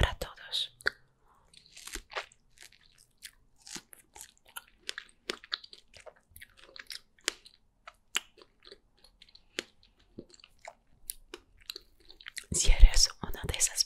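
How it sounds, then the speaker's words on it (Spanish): Close, intimate chewing and biting of fresh strawberries with wet, squishy mouth sounds and occasional crunches, scattered in soft bursts through quiet gaps and building to a denser cluster at the end, with whispering in places. "sonidos de saliva o de masticación no son para todos"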